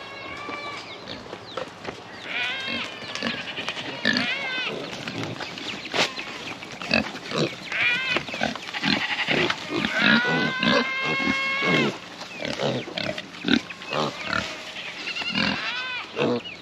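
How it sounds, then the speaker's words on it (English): Several farm pigs grunting, squealing and oinking close by as they eat radishes gone to seed, a busy, continuous chorus of overlapping snorts and squeals with some birdsong in the background. "So let's see what the pigs think."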